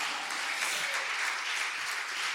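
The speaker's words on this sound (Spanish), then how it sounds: "Dale un aplauso al Señor." A church congregation applauds steadily and densely, a continuous wash of many hands clapping at moderate level throughout, with no voices standing out.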